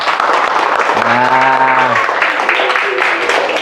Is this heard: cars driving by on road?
no